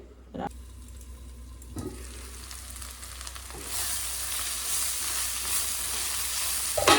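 Chopped elephant apple fries in a pan with a continuous sizzle that grows fuller midway, punctuated by a few sharp utensil clicks, heard close and alone.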